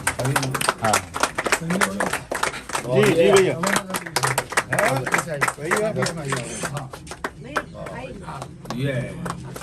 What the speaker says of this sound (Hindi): सभी लोग उनका तालियों से स्वागत करें